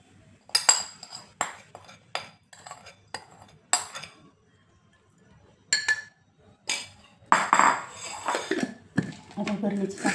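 Unripe karvand pickle is spooned into a jar, with metal utensils clinking in bright, irregular taps and rattles that come in short clusters, growing busier toward the end.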